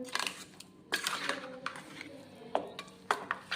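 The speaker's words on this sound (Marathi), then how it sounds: "आता मिश्रण यामध्ये टाकून झाल्यानंतर आपल्याला व्यवस्थित याला फेटून घ्यायचं आहे हलवून" A spoon stirs a spice paste into mutton in a metal pot, giving quiet, close scraping and clinking strokes in an irregular rhythm.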